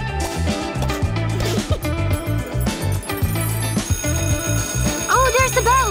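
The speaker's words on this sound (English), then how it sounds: "Oh, there's the bell! Gym is over!" Electronic school bell ringing in rapid repeated trills, loud over dense background music throughout.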